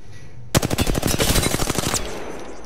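A rapid, loud burst of automatic gunfire in Apex Legends, evenly spaced shots for about a second and a half, close and alone without talk.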